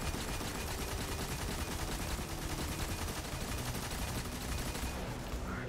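Thunderlord heavy machine gun fires in a Destiny-style shooter, an unbroken, rapid, loud rattle of shots that runs dense and steady before cutting off near the end, with no talk.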